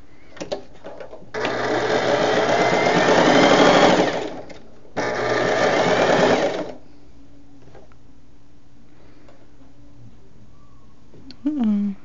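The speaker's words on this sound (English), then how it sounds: "going to go ahead and sew these two pieces together." A home sewing machine stitches two pieces of scrap fabric together in two loud, steady whirring runs of a few seconds each, with a brief pause between them and quiet room noise afterward.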